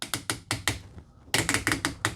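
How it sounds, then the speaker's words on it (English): Ratchet joints in the arms of a Haslab Victory Saber action figure click sharply and close up, about a dozen quick ratcheting clicks in two runs separated by a brief pause, with no talking. "His arms these are very tough ratchets."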